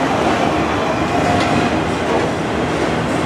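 A long Norfolk Southern autorack freight train rolls past in Spartanburg, South Carolina, a steady loud wash of wheel and car noise with faint clickety-clack and no voices.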